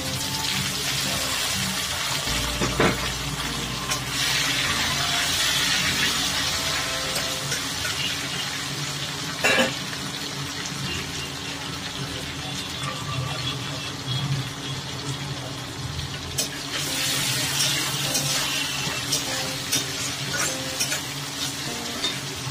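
Chopped tomatoes fry in a pan with a constant close sizzle, broken by spoon scrapes and stirring clatter as they are turned.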